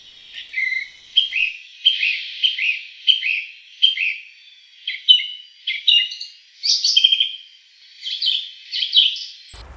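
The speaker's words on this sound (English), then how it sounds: "I heard a lone song thrush, singing his heart out." A lone song thrush sings on a snowy March day in the New Forest, delivering a steady run of bright, repeated whistled phrases with short pauses between them, clear and fairly close with no other sound beneath.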